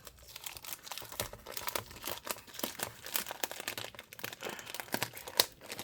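A blue plastic anti-static bag crinkles and crackles in close, irregular bursts while being handled during a Lenovo Legion Y740 laptop screen replacement.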